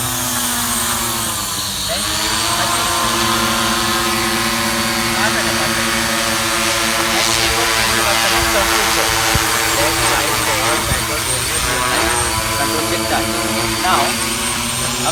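A drone's propellers whir into a loud, steady multi-toned buzz as it lifts off for takeoff, the motor pitch shifting slightly while it climbs, running continuously throughout.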